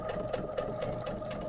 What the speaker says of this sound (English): I use the machine to do the sewing